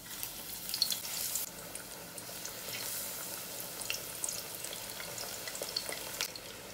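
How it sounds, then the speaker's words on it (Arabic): Eggplant fries in hot oil at a low, steady sizzle, heard from close by, with scattered clinks and light movement and no talking. "وبعد ما نشفنا كل الميه اللي هي على البتنجان هننزل زيت سخن"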